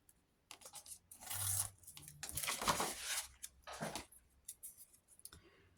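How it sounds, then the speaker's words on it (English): Paper page torn out of a handmade Christmas accordion-style journal, a few bursts of crisp ripping and rustling close by over about four seconds, with light handling clicks around it. "Let's just tear that out."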